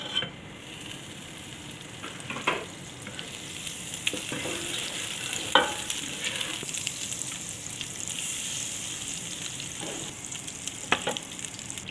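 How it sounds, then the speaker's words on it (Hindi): Butter frying in a cooking pot for a white mutton korma, a steady close sizzle with scattered sharper pops and clinks of stirring spread over the whole stretch, no talk. "एक बर्तन लेना है, उसमें आपने बटर डाल देना है।"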